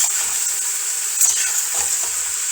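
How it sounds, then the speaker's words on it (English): Onions sizzle steadily in a hot pan on a home stove while a utensil stirs them, a close, continuous hiss with brief scraping bursts and no talking. "I'll give my onions a little stir so that it will not burn from under"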